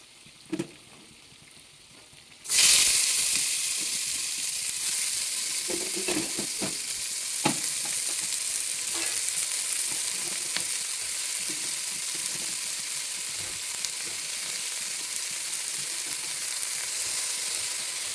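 Onions cooking in oil with salt for chicken biryani set up a loud, steady sizzle that bursts in suddenly and holds continuously, with a few light clinks of stirring along the way.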